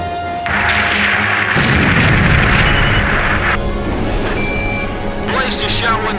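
An enemy aircraft explodes in a jet dogfight in Ace Combat 5: The Unsung War. A loud, rumbling blast swells and rolls for a couple of seconds over steady engine roar and background music.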